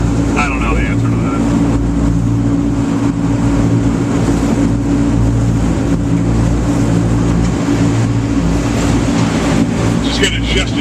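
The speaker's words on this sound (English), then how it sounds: "This is top speed right here. It's like 4 horsepower. It's an 8-cylinder engine." An amphibious Boston duck tour boat's 8-cylinder engine drones steadily at top speed on the Charles River, a loud, low, continuous hum running beneath people talking.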